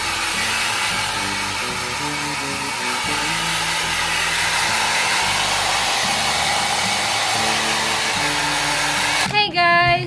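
A hair dryer blows steadily at close range, a loud continuous whoosh with a low motor hum, cutting off abruptly near the end.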